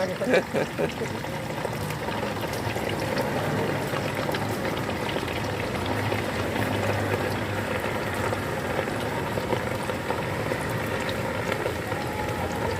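Thai meatballs deep-frying in a large batch of hot oil at a street food stall, a dense, steady bubbling sizzle that runs unbroken and fairly loud throughout, with occasional faint clatter.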